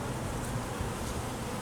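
Honey bees buzz in a hive during swarm season, a dense, continuous droning hum of many insects heard close for a brief moment with no talking.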